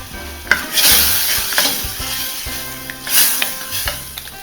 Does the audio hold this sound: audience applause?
no